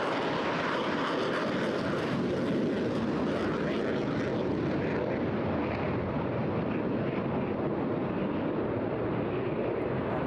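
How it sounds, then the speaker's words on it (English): Eurofighter Typhoon delta-wing jet performing at a seaside airshow, a loud continuous roar of jet engines filling the air, steady and powerful with a slowly shifting tone, no talk heard. "So balance the aircraft on the thrust of the engines, generating the lift on that beautiful delta wing."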